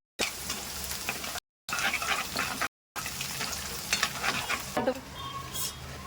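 Cashew slices fry in hot oil in a small kadai over a low flame with chopped green chillies for thin poha chivda. A steady close sizzle runs under occasional stirring scrapes, broken by two brief silent gaps.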